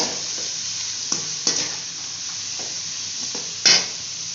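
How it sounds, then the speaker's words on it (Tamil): Cabbage being stir-fried in a pan for chicken fried rice: a steady hiss of sizzling broken by several sharp spatula scrapes, the loudest near the end. "அடுத்தது முட்டைக்கோஸ் சேர்த்துக்கிறேன்"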